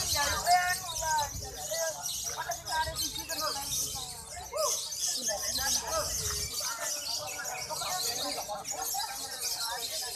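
Birds chirp and tweet in quick, repeated bursts at a bird singing contest, a busy chorus of caged songbirds heard close by throughout, with people talking in the background.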